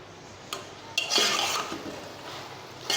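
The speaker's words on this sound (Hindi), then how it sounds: "ये हमने इसमें ऑनियन ऐड कर दिए। अब हम इसको अच्छे तरीके से मिक्स कर लेंगे।" Chopped onions are stirred in a pan for a white-sauce chicken pasta, with a few scraping spoon strokes and light clatter against the pan over a quiet background.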